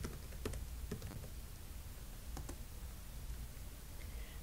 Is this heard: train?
no